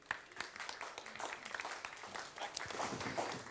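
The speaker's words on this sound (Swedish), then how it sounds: "Han kan väl få en applåd på vägen." Light audience applause as a panelist walks up at an energy policy event, scattered claps heard quietly and at a distance, thin and uneven.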